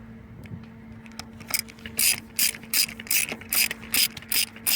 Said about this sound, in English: this is just taking the tension off of the belt that the air conditioning uses